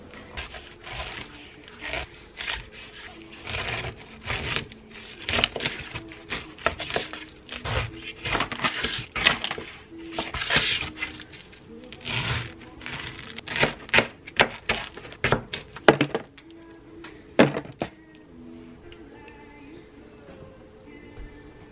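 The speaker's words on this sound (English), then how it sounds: "All I have left to cut up is the pineapple" A knife chops through a pineapple on a board in a run of sharp, irregular cuts and thuds, close and fairly loud. Short quiet gaps fall between bursts, and a few scrapes come near the end.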